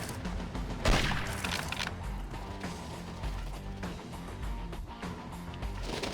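Bursts of gunfire from the shooting gallery in the PSP hunting game Cabela's North American Adventures, with one sharp loud shot early on followed by steady, dense rapid firing and mechanical clatter throughout.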